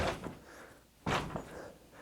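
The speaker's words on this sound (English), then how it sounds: "Let's see how hard I can hit the door." A body wearing a padded hip protector slams hard into a door, giving one loud broadband thump near the middle, with a softer earlier knock and faint room noise around it.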